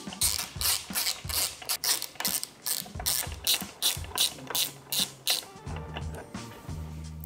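A tool clicks rapidly in short repeated bursts while stem bolts are backed out to fit a handlebar on a lightweight steel road bike; it sounds close and crisp, with a low hum creeping in toward the end.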